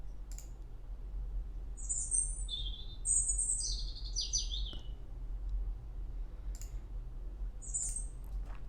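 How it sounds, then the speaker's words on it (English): Birds chirping in an outdoor field recording, a few high bright calls and short warbling phrases scattered over a steady low background rumble, fairly distant and sparse. "So if you want some birds chirping,"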